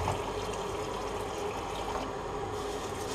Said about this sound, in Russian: Воды наливаем так, чтобы она покрыла полностью